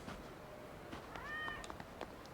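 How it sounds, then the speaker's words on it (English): A cat in the video game Yakuza 0 lets out a short, clear meow near the middle, over quiet game ambience with faint clicks. "I want to pet the cat."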